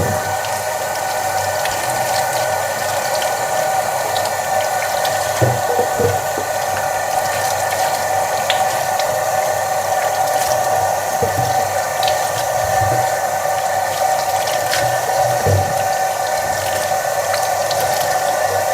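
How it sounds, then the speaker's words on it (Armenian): Wild field mushrooms rinsed under running tap water in a kitchen sink, a steady close stream of water hissing continuously with faint splashes and no talk. "Հատ նորից հոսող ջրի տակ լավ պահեմ լվանամ։"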